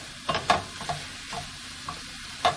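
Cilantro is stirred into shrimp frying in a pan: a soft sizzle runs beneath several light scrapes and taps of a utensil against the pan, spaced irregularly and heard close up.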